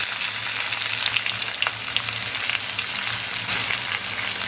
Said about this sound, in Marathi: मिरची लसूण सुद्धा ब्राऊन करायचं आहे कुरकुरीत करायचे आहे